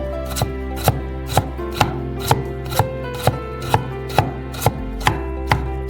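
A knife cuts a carrot into small strips on a board in about a dozen crisp, evenly spaced chops, close and clear with no talking.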